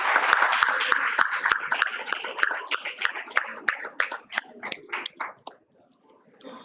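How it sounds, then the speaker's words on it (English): Audience in a conference hall at a financial inclusion session clapping, close and uneven with distinct individual claps, thinning toward the end before dying out into near silence. "In the hall, that can we give them a round of applause?"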